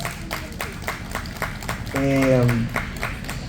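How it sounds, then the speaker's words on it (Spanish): Audience applause for children's author Ana María Güiraldes at a book launch, a steady wash of clapping with a swell midway, while a voice talks over it. "un gran aplauso, por favor, Ana María Giraldes"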